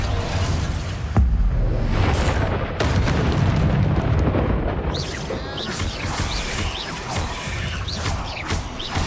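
Bombarda spell explosions in the video game Hogwarts Legacy, heavy booming blasts with rumbling debris, loud and close, with one sharp hit early and further crashes and rumbles rolling on afterward.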